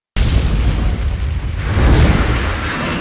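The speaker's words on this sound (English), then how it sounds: "they cause an explosion on a double-decker bus on a bridge" A double-decker bus blows up on a bridge in a film scene: a sudden loud blast that bursts in at once, then a long, rumbling roar of debris and fire that stays heavy to the end.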